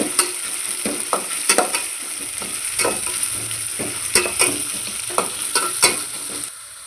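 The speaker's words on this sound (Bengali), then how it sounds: "পেঁয়াজ দেওয়া হচ্ছে, পেঁয়াজগুলো লাল করে নেবো হালকা।" Onions fry in a hot pan with a steady sizzle, broken by repeated sharp scraping strokes of a spatula stirring them, close and fairly loud with no talking.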